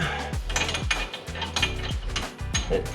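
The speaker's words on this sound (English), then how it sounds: "now I just got to tighten this bolt up till it meets the bottom of this bracket" Ratchet wrench tightening a bolt on a front lowering bracket of a 1994 Chevrolet S10 pickup, a close, busy run of quick metallic clicks and clanks in repeated bursts with no talking.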